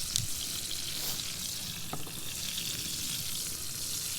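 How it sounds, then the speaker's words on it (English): Portobello mushroom steaks cooking in a pan for a vegan dish, giving a steady, close, dense sizzle and frying hiss throughout, with a few faint stirring clicks and no talking. "All right, sizzling, sizzling."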